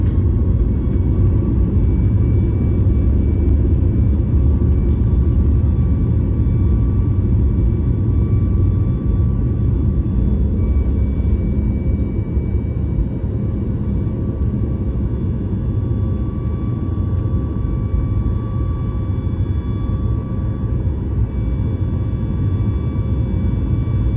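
Steady low cabin roar inside a Boeing 737 MAX airliner in flight, a constant broadband rumble with a faint tonal hum, loud and unbroken throughout with no talking.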